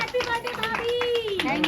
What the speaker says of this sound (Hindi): बजाओ ताली बजाओ यार